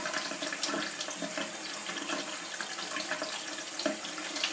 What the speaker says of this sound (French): Et je peux aussi tourner comme ça avec l'eau qui coule.